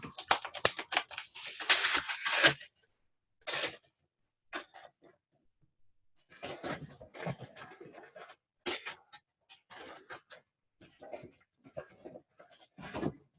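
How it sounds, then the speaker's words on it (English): Tape is pulled and peeled off bootleg toy figure packaging, making close, crackly, sticky rips in quick bursts, then sparser small tearing and crinkling sounds after a pause. "Try pulling the tape first"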